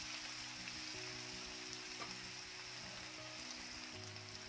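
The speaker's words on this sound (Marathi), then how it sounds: "अशाच पद्धतीने कांदा चांगला सोनेरी भाजून घ्यायचा आहे" Onion and finely chopped tomato frying in a pan for an okra dish, a soft, even sizzle that stays constant and fairly faint throughout, with no talk.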